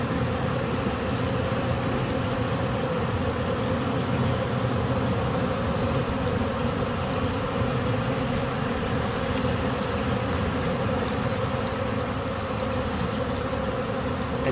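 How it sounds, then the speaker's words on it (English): A swarm of bees buzzes around a bucket, making a continuous dense hum that holds steady at moderate level with no talk. "I just want to demonstrate how the bees will go to the bucket."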